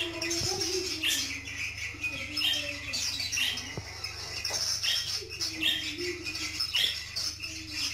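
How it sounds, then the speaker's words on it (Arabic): Budgerigars chirp, squawk and whistle continuously in an excited, busy chatter, fairly close, over a low background hum. "كما تلاحظون أن الطيور بدأت تغرد وبدأت تصفر."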